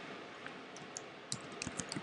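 Computer keyboard typing in short, soft clicks, sparse at first and then quicker and denser toward the end, heard close and fairly quiet with no voices.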